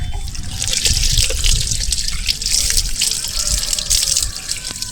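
Tap water running into a kitchen sink while a black kitchen item is washed, a steady splashing hiss with small knocks and scrapes of handling, close by.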